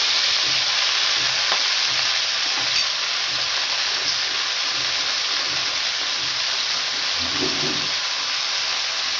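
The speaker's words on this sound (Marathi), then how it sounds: "आता हा चिरलेला पालक आपण ह्याच्यामध्ये घालणार आहे." Chopped spinach sizzles and fries in a pan for aloo palak, a steady bright hiss with soft stirring scrapes and clatter, close and continuous with no talk.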